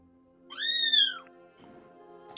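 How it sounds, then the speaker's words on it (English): Meowing from several kittens: one loud, clear, drawn-out cry near the start, then a fainter, rougher follow-up over a quiet room hum, with no voices. "My god, those kittens got louder."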